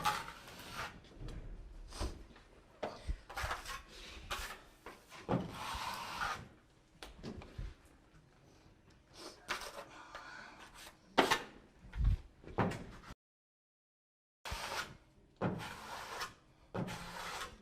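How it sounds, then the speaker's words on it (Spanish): A 6 mm notched trowel spreads tile adhesive over Knauf Aquapanel cement board, producing soft, close scraping and rubbing strokes in irregular sweeps, with one brief silent gap before the scraping resumes. "Con una llana dentada de 6 milímetros, para que nos quede un surco de 3 a 45 grados."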